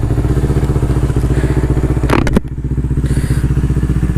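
A motorcycle idles loudly and close with a steady, throbbing engine beat, broken by a brief clatter and thump before the engine pulses on as the rider sets off.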